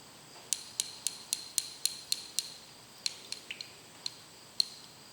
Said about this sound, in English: So mix it up and make sure I got all the lumps out